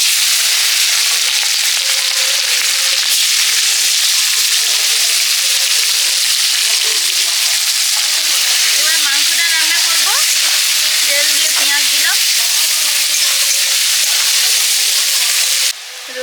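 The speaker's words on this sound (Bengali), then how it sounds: "আলুগুলো ভেজে নিয়েছি এবারে পেঁয়াজ দিয়ে দেবো তেলে" Potatoes and onions frying in hot oil, a loud, continuous dense sizzle with crackles and faint clinks of a stirring spoon throughout.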